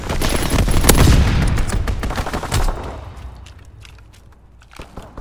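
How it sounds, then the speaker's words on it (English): A fighter plane makes a strafing run in the Call of Duty WWII game, with loud bursts of rapid gunfire and impacts that fade into scattered crackles and thuds. "Fighter pilot inbound, strafing the target"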